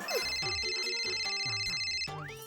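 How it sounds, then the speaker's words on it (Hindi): A phone's ringtone sounds for an incoming call, a melodic electronic tune that rings steadily and clearly for a couple of seconds with no talking over it. "लो, आ गया इनका फोन।"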